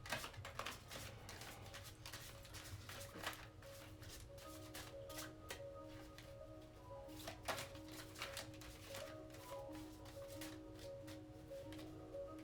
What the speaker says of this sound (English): These cards don't like to shuffle like that.